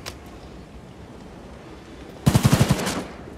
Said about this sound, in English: Heavy firepower incoming! Where's the fire coming from?